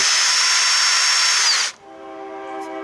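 A power drill whines at high speed while cleaning a part from a 1968 6 hp Evinrude outboard motor, loud and steady, then stops abruptly and spins down to a faint tonal hum.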